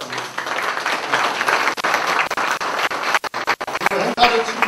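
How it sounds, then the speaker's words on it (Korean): Crowd at a Korean political party lecture event applauds, a lively patter of clapping with uneven bursts and brief dropouts toward the end, heard close and fairly loud. "박수"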